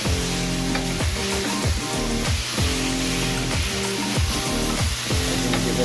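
A thin steak sizzles on a George Foreman grill, giving a steady hiss under a loud, repeating music bed with a deep bass line.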